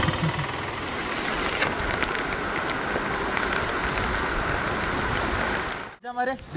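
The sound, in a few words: heavy rain arriving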